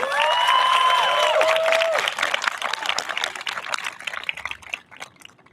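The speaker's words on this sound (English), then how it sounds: "Can we have a well-deserved round of applause for our parents?" Graduation ceremony crowd at a Massachusetts charter school applauds the graduates' parents, a sustained burst of clapping with a few whistles and cheers at the start, gradually thinning toward the end.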